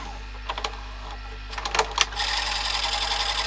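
A Panasonic NV-HD650 VHS video recorder runs a tape, its mechanism giving a steady faint whir punctuated by several sharp clicks and clunks, then a louder rattling drone.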